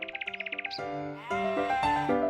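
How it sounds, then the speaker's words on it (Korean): An old goat bleats in a children's bedtime fairy tale, a quick trembling series of high bleats followed by a longer wavering cry, close and clear with no talk. "옛날 옛적에 오래된 염소가 있었습니다."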